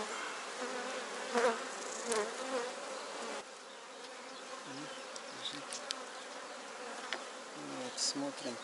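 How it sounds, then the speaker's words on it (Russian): Honeybees hum and buzz continuously around queen cells inside an open hive, a dense close swarm drone with individual bees passing near at moments, no talk over it. "Пчелки мешают, видите?"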